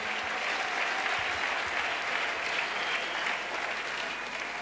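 A congregation applauds at an evangelistic crusade, dense sustained clapping heard from a distance, even and continuous without pauses.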